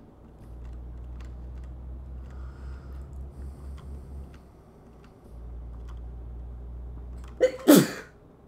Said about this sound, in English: You sneeze quite a lot